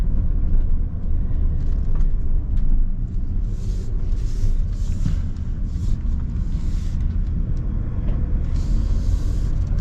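Inside a 2024 Storyteller Beast Sprinter camper van on the move, a steady deep road rumble and engine drone continue throughout, with faint hissing swells above.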